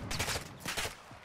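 In Call of Duty DMZ, a quick pair of gunshot bursts cracks out close together, loud and broadband, then fades within about a second.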